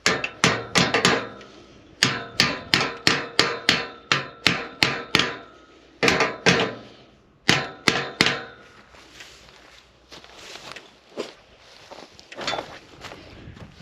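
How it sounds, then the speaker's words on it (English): Sharp metallic hammer blows driving a staple into a barbed wire fence post on a South Dakota farm, in quick bursts, several strikes in a row, pausing, then more, followed by quieter scraping and tapping. "we'll help it out a little bit with the hammer here"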